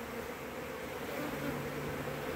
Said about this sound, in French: il y a les abeilles qui viennent, qui essayent un petit peu de rentrer